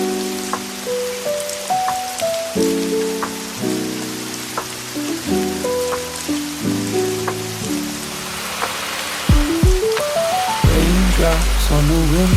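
Steady rain patters against a window pane at a seaside cafe on a rainy day, a continuous soft hiss running beneath a gentle, plucked melody.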